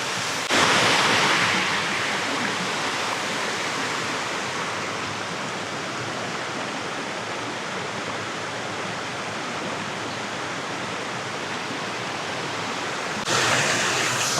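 Cold plunge water in Northern California flows with a steady, loud, broadband rush that stays unbroken from start to finish.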